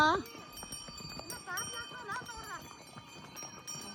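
Hooves clop at a slow walking pace close by, while people talk over them throughout.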